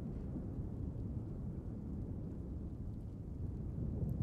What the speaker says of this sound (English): It must have been the thunder.